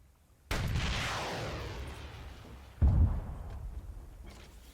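Tank-launched missile in Arma 3 firing with a sudden loud blast that decays into a long rushing whoosh, followed by a second heavy thump a couple of seconds later.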